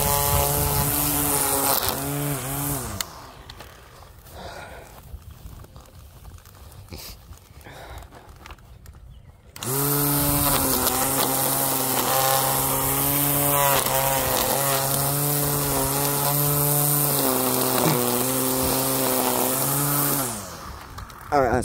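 A string trimmer cutting lawn grass whines loudly and steadily, pauses for several seconds of quieter background, then revs back up with a wavering engine pitch before cutting off near the end.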